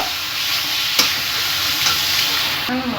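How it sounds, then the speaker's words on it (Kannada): Greens are stirred into a sizzling tempering in a pan for a village-style vanghone soppina bassaru, a steady loud frying hiss with a few spoon scrapes, ending in a clack near the end. "ಸೊಪ್ಪು ಹಾಕೊಂಡು ಒಗ್ಗರಣೆಗೆ ಇದನ್ನ ಕ್ಲೀನಾಗಿ ಮಿಕ್ಸ್ ಮಾಡ್ಕೋಬೇಕು"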